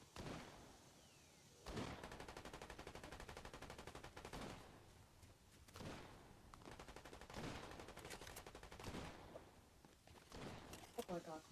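Gunfire in the video game Fortnite: several bursts of rapid automatic shots, close and loud, broken by short pauses, ending in a cluster of sharp cracks, with some talking mixed in.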